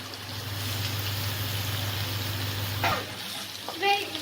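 Ground urad dal stuffing frying in a pan, a steady close sizzle with a low hum beneath, ending in a couple of brief clinks or scrapes.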